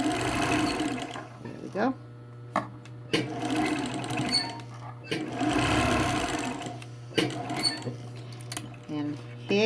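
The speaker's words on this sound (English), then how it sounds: "We're going to close it now with the top stitch." A sewing machine top-stitches the bottom of a fabric face mask closed, running in several short rattling bursts with pauses between them while someone talks quietly nearby.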